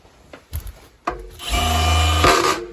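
A few knocks and scrapes give way to a loud, rattling SDS drill in hammer mode running steadily for over a second, then winding down.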